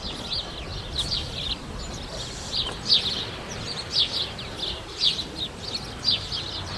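Sparrows and pigeons in a city square, waiting to be fed in the morning. Bright, repeated chirps come in small bursts about once a second over steady outdoor background noise.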